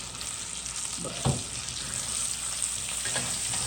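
Rack of lamb sizzles steadily in a pan while it is basted, a loud unbroken fry hiss with a few soft spoon knocks and one brief spoken word.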